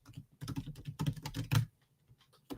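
Rapid typing on a computer keyboard while coding, close dense clusters of key clicks in bursts, then a pause and a few scattered taps.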